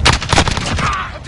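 Video game gunfire crackles in a rapid burst of loud, close shots lasting about a second, dense and sharp with little pause between reports.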